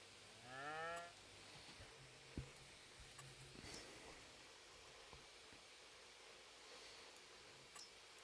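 Cattle in a cow pen in Farming Simulator 22 give one clear moo near the start, then a faint, steady ambient hiss follows with a few small clicks and no further calls.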